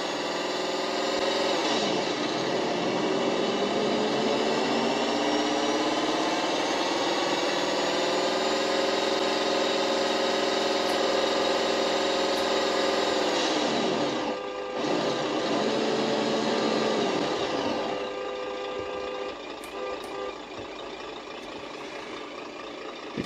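An RC sound system plays a simulated Scania truck engine through a small speaker, a buzzy diesel drone that rises and falls in pitch through several gear changes, close and continuous with no talking.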